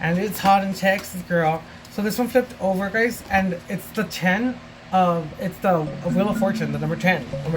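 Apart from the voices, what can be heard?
No distinct noise like a dog, phone or traffic.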